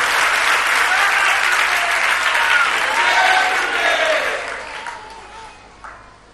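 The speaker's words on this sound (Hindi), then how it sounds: "सब नीचे बैठे बैठे ताली बजा रहे हैं।" Sustained applause from a seated audience at a spiritual discourse, loud and dense at first, then thinning out and fading toward the end.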